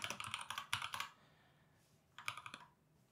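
Quiet indoor typing on a computer keyboard, two quick bursts of clicking keystrokes separated by a short pause, close and faint with no speech.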